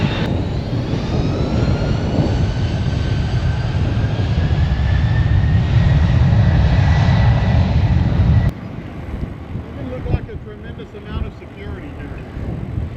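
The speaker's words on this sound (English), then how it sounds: "it's the same plane that just took off." Airplane taking off near a bike trail on Maui's north shore at Paia, its loud broad engine roar dominating for several seconds, then dropping off abruptly to quieter wind and rumble.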